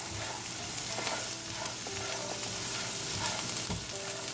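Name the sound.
stirring green mung dal mixture in a pan with olive oil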